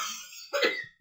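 A single short cough, close and dry, with a throaty onset and a quick fade.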